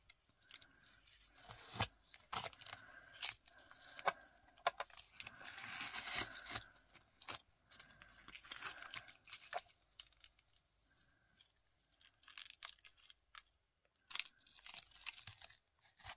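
Tape peels off paper in quiet, crackling, tearing bursts, stopping and starting irregularly with brief pauses between pulls.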